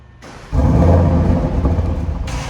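An Audi RS6 Avant wagon's engine catches after a brief crank and roars into a loud, steady rev that holds, close and alone.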